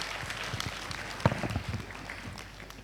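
A conference audience gives a brief round of applause after a talk, moderate clapping with one sharp clap near the middle, fading toward the end.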